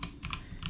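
Quick, close keystrokes on a computer keyboard, a short burst of three or four clicky taps in under a second.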